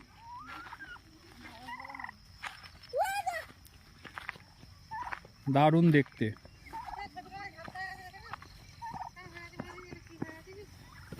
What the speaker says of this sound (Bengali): এই যে চায়না মুরগিগুলো দেখছেন এরা সব চলাফেরা করছে এখানে ঘোরাফেরা করছে চায়না মুরগি